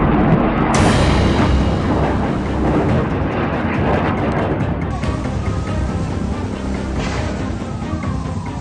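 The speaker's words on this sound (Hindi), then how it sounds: "इजरायल अब इन अस्पतालों के आसपास लगातार बमबारी कर रहा है।" Israeli bombardment near hospitals in Gaza: a heavy, continuous rumbling roar of distant explosions rolls on without a break, loud and dense throughout, with slight surges along the way.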